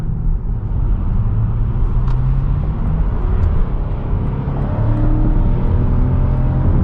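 Interior engine and road noise from a 2021 Lexus RX 450h F Sport hybrid V6 gaining speed on the highway, a steady loud low rumble with a rising tone, no talking.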